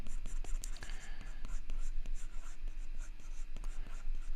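A pencil sketches on paper in close, soft scratchy strokes of irregular rhythm, quiet and steady over a low background hum.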